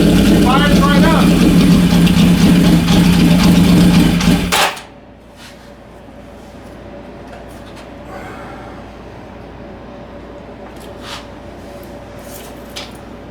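A motorcycle engine fires up with a loud, steady mid-pitched idle after an electrical hack for a suspected bad stator or ECU/TCI, then cuts off abruptly, leaving quiet room noise with faint clicks.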